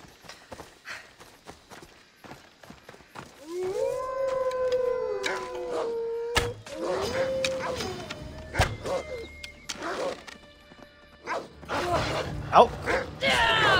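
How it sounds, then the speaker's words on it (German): A wolf howls in the video game Assassin's Creed Odyssey, one long rising and falling howl followed by a second shorter one, over hoofbeats and game ambience. "Habe ich gerade einen Wolf gehört?"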